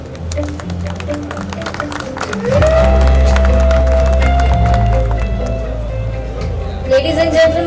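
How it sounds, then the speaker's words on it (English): Applause and cheering break out from the audience at a 35th anniversary celebration, a dense crowd of clapping that swells partway through and continues under a tonal hum and a host's voice. "Ladies and gentlemen, the huge round of applause should not stop tonight"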